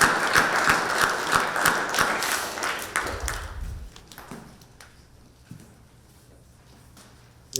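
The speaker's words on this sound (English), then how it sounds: "Please give Cameron a round of applause." An audience at a Martin Luther King Jr. ceremony in Cleveland Heights applauds, loud dense clapping for about three seconds that thins into a few scattered claps and fades out.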